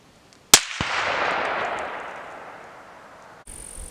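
A single sharp rifle shot from a .308 Winchester handload at an outdoor range, a loud crack followed by a long rolling echo that slowly fades.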